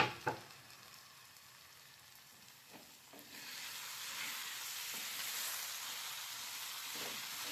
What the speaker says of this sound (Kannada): ನಾನು ಇಲ್ಲೇ ಫ್ರೈ ಮಾಡ್ಕೊತೀನಿ.